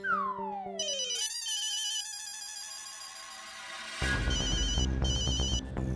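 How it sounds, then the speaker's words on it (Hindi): A phone ringtone plays loud and close in an indoor sitcom scene, opening with a rising electronic sweep before settling into a repeating bright chiming melody that grows fuller partway through, with no voices. "बॉस का फोन।"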